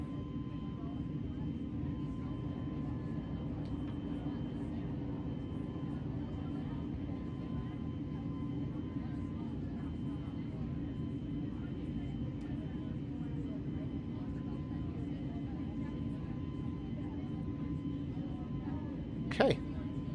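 A steady low drone of an airliner climbing after takeoff in Microsoft Flight Simulator, continuous and even throughout, with a brief sharp click near the end.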